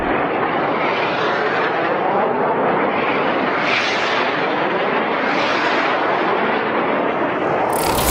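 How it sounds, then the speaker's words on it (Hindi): An American Tomahawk missile flies over Iran with a loud, steady, broadband roar that swells slightly a couple of times as it passes, with no voices. "ईरान के ऊपर से अमेरिकी टोमाहॉक मिसाइल जाती हुई नजर आ रही है।"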